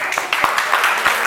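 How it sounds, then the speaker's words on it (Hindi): Classroom applause during a JEE physics coaching lesson in India, a dense burst of hand clapping that begins after a brief pause and continues at a steady level with sharp individual claps. "ताली जोर से"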